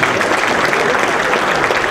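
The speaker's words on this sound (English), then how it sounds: "So nice round of applause for all the Rock Cat fans out there." Fans at a baseball club's Hot Stove gathering clap in a thick, steady wash of many hands, loud and close, lasting the whole short moment.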